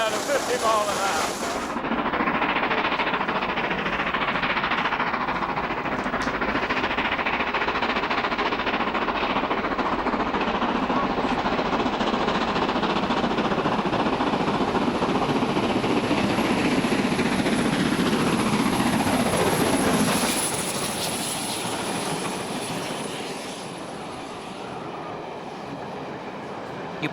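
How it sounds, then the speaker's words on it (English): An LMS Black Five steam locomotive accelerates away with a train on a British main line, its steady roar and rumble building close by before the sound shifts and fades slightly as it passes. "It's accelerating away now to 50 miles an hour."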